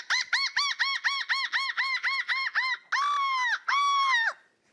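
A person imitates a seagull, voicing a run of about a dozen quick, clipped, nasal calls and then two longer drawn-out cries, loud and close with no other sound.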